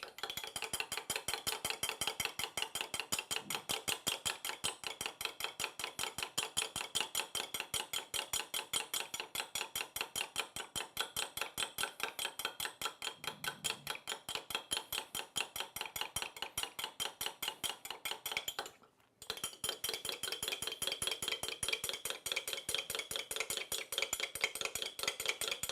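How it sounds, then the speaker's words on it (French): Lemon juice, olive oil and salt are stirred briskly in a cup, giving a steady run of rapid clinking taps that barely pauses for a moment near the end. "Vous voyez, comme ça, on mélange."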